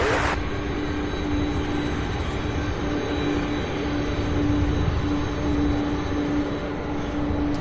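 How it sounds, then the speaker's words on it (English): Two Boeing 767s taxi toward the runway at SDF airport in the early morning, a steady broad jet engine roar with a constant whine, sustained and fairly loud throughout. "So there are two 767s back to back getting ready to take off."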